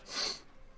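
A single short sneeze, a quick airy burst with faint breathing after it, heard close and alone.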